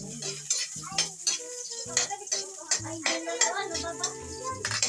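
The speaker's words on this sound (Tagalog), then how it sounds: "Oh, mga idol, magigisa na ako." Sautéing in an antique wok, with clinks and scrapes of a utensil stirring against the metal and a soft sizzle underneath, close by, while a person talks intermittently over the cooking.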